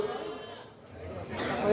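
A goat bleats during the prize announcements at a local goat contest in Kulon Progo, the call rising near the end over a murmuring crowd while an announcer speaks.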